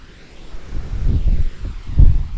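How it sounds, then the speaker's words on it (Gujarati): Strong wind buffets the microphone in heavy low rumbling gusts that swell and peak near the end, with no voices. "જોરદારનો પવન એટલો આવે છે કે ઉડાડી નાખે એટલો પવન આવે છે"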